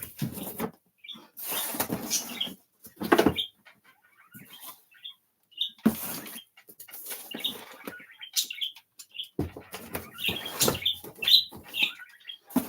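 Pet birds chirp indoors in short, scattered bursts of tweets, broken up by louder rustling and thumping noises close by.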